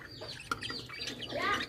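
Lovebirds kept in a cage give off quick high chirps and tweets, a busy scatter of small calls from close by at a low level, with no talking over them.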